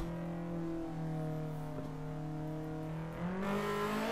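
Honda Civic VTEC engine running steadily in a tunnel in the racing game Assetto Corsa, with a strong harmonic drone that climbs in pitch near the end as it revs higher, echoing and loud with no talk.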